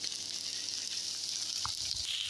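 Meat frying in a pan with onions and lamb fat tail, giving a steady, close sizzle that runs the whole time with small bubbling pops and no talking.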